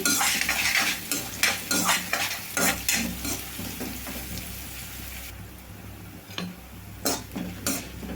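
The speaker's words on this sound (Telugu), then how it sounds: "కొంచెం కరివేపాకు వేసేసుకున్నాము చూడండి ఉల్లిపాయ వేగడానికి కొంచెం సాల్ట్ అండి" Onions frying with curry leaves and salt in a pan for a brinjal tomato curry, with brisk, repeated spatula scrapes over a steady sizzle and a quieter stretch of frying before the last few strokes.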